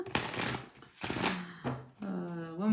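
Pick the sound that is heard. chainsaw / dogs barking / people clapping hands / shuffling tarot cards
shuffling tarot cards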